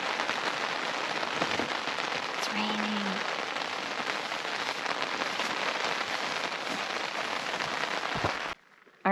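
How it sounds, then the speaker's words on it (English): Steady rain falling on a hiking trail in Yellowstone National Park, a dense continuous hiss of drops on the ground, close and fairly loud, cutting off abruptly near the end. "It's raining."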